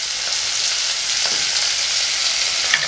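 Tamarind and chillies sautéing in a pan for coriander tomato chutney, a loud, even sizzle with faint stirring scrapes under it, steady from start to finish.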